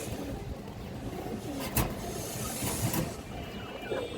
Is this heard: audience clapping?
no